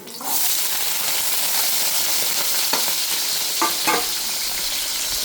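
Onions and green chillies sizzle steadily in hot oil with fenugreek seeds, a loud continuous frying hiss with a few brief stirring scrapes near the end.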